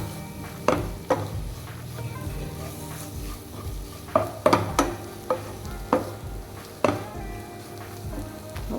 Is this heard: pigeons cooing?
no